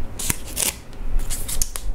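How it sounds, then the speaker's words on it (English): Hot pink stickers peeled off paper, giving several short, crisp ripping bursts spaced irregularly across two seconds, close and fairly loud with no talking. "I just love the sound of peeling them off"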